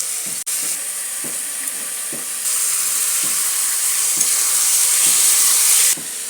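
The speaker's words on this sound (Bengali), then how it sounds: "জলটা ছেঁকে লোটে মাছটা দিয়ে দেবো" Lote fish dropped into hot spiced oil, giving a steady loud sizzling hiss that grows stronger partway through, with soft periodic stirring knocks underneath.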